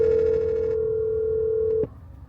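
An unanswered phone call gives a single steady electronic ringing tone from a phone, loud and close, that holds for nearly two seconds and then cuts off abruptly.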